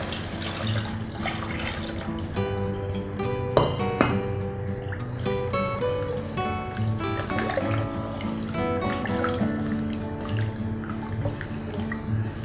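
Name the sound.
water poured into pot for vegetable biryani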